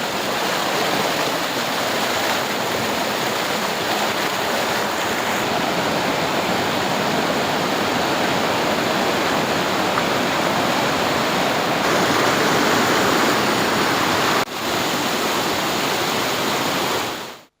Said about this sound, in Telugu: వాగులు, వంకలు పొంగి పొర్లుతున్నాయి.